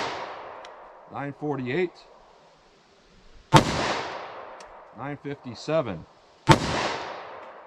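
Three sharp .45 ACP pistol shots with Speer Gold Dot ammunition fired from a short barrel, each a loud crack that rings and fades slowly, with a person talking between the shots.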